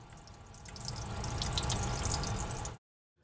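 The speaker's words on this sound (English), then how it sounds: "Place the flask under running water to cool it down to about 60 degrees Celsius" Tap water runs steadily over a laboratory flask being cooled after heating, a continuous close splashing wash that stops abruptly near the end.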